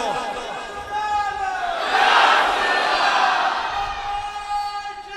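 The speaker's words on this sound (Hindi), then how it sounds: "ऊंची आवाज से नारे का जवाब दो" Large crowd at a Khatm-e-Nabuwwat religious gathering loudly chanting back in answer to a slogan, a swelling mass of voices that peaks in the middle and stays strong to the end.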